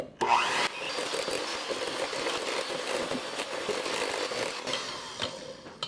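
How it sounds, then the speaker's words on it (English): Electric hand mixer beating room-temperature butter at medium speed, a steady whirring, rasping drone that runs loud and continuous throughout, close up, with no talking. "So I decided I was going to use my hand mixer."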